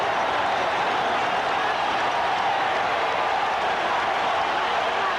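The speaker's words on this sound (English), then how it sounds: "Listen to the crowd." A large baseball stadium crowd at the 1978 World Series roars in a dense, sustained wash of cheering that holds steady without a break.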